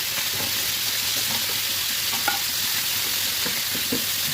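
Meat frying in oil in a pan for a summer trip meal, stirred now and then: a steady, close hiss of sizzling with faint scrapes and small pops throughout, no voices.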